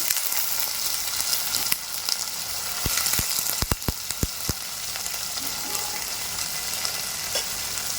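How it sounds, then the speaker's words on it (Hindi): Pumpkin pieces frying in a pan for a dry sabji, a steady close sizzle with a quick cluster of sharp utensil knocks and clicks in the middle, and no talking. "अब इसके अंदर मैं डाल दूंगी पम्पकिन।"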